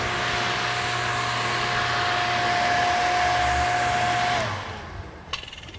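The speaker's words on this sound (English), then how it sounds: "we're going to turn the pump on manually" A brine maker's pump gives a steady, loud motorized whine with a sustained tone for several seconds, then winds down and cuts out, leaving quieter clicks.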